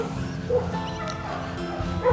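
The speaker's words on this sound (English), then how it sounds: "You hear the dogs barking" Dogs bark and yip at a distance, a few short calls over a steady background of outdoor noise.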